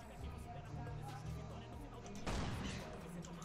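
A single sharp gunshot in the survival video game Last Island of Survival, cracking out loudly over steady low game ambience and background rumble.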